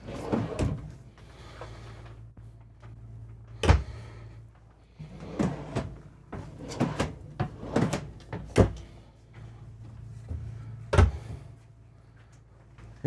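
RV cabinet drawers on full extension glides in a 2026 Newmar Supreme Aire motorhome, sliding open and shutting repeatedly with soft rolling rumbles and a series of sharp knocks and thuds, close by, amid a low background hum.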